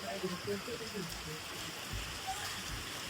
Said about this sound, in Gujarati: ફૂલે ફૂલ વરસાદ ચાલુ થઈ ચુક્યો છે